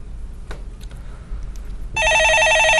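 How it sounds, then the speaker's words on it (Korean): A telephone in a Korean radio stock-market call-in studio starts ringing with a bright, electronic trill after a quiet stretch of faint room noise. "전화 받아보겠습니다"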